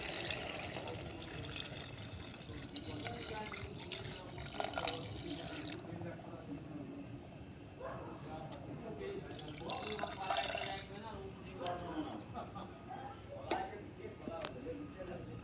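Water poured into mutton cooking in a pot, a steady splashing, running pour that carries on throughout at moderate loudness, with a person talking over it.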